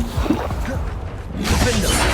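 Bombarda and Confringo spell blasts in the video game Hogwarts Legacy: a few loud magical impacts and crashes with short whooshes, bursting close by in quick succession.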